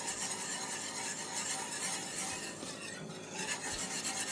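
Chocolate sauce with vanilla and cornstarch being whisked vigorously in a pan, a close, continuous rasping scrape with a quick, even rhythm.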